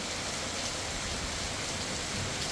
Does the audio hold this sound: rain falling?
yes